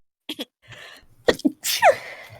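A single loud sneeze, preceded by a sharp breath and a brief stifled sound, close and clear.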